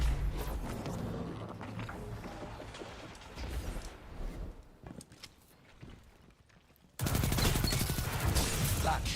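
Gunfire during a Destiny 2 PvP match, including light machine gun fire: dense, rapid bursts of shots and impacts, briefly quieter midway, then a loud sustained burst at the end.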